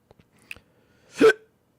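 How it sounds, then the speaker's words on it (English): A single sharp hiccup-like burst, brief and fairly loud, preceded by a few faint scattered clicks in otherwise quiet surroundings. "See, hear that hiccup?"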